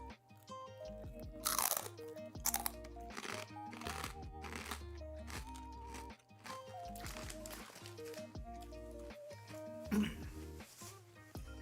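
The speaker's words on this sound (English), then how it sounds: "I think this is supposed to be seaweed, tempura seaweed, and it looks very, very crunchy" Crunchy tempura seaweed snack is chewed close to the mic, a run of loud, repeated crisp crunches and bites that keeps going across the whole stretch, with faint background music underneath.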